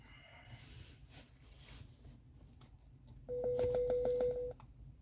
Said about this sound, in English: That was somebody trying to ring me.